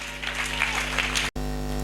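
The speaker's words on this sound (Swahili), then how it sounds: "Gonga makofi yenye afya, piga mikono yako." Congregation in a church service clapping hands together, a dense continuous patter of many hands filling the room, cut by a brief gap before resuming.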